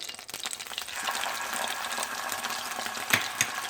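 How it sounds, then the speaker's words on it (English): Ginger and garlic hit melted butter in a hot wok, a steady crackling sizzle with a few sharper pops and stirring clinks near the end, close and moderately loud. "And then it is going to sizzle."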